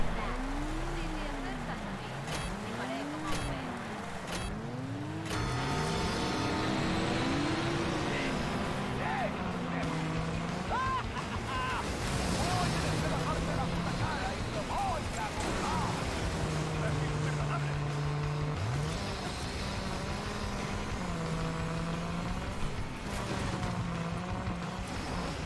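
A car engine in the video game RAGE 2, revving and shifting in rising and falling waves throughout a long drive, with someone talking over it.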